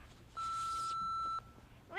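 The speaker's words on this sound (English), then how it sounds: "Do your thing when you hear the beep." A long, steady answering machine beep sounds alone for about a second, clear and fairly loud, with faint room noise before and a voice starting just after.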